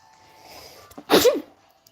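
A single loud sneeze bursts out near the microphone, short and sharp, with a quiet room murmur before it and near silence after.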